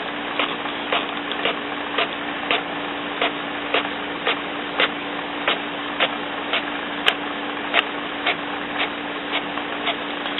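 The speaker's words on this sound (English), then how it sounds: "the printer and watch it print out." An HP Officejet Pro 8600 inkjet printer prints a page: a steady mechanical hum with a regular ticking of the print head, roughly twice per second, heard up close and alone.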